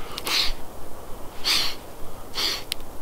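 A person imitates a deer snort with three sharp, breathy bursts of air spaced about a second apart, close and fairly loud.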